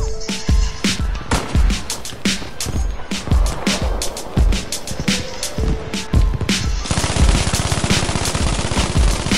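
Rapid video-game gunfire rattles in dense bursts of sharp, loud reports with few gaps. It shifts to a harsher, brighter sustained burst in the last seconds.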